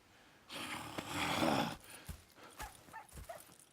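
Horses in Red Dead Redemption 2 snort and blow for a moment, then hooves thud softly and irregularly nearby at a fairly quiet level.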